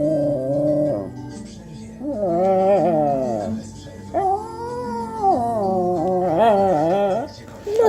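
A dog whimpers and howls in long, wavering, pitched cries, loud and close, in several drawn-out phrases with short breaks between them.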